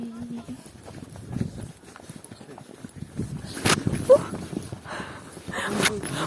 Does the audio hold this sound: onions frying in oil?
no